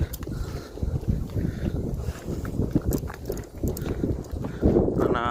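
A mare walking off on hard ground, a loose run of hoof clip-clops with wind noise rumbling across the microphone.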